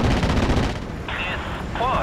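Tank guns firing on a German Panther tank in the World War II strategy game Steel Division: Normandy 44, a burst of heavy booming impacts followed by quieter battle noise and short whining effects.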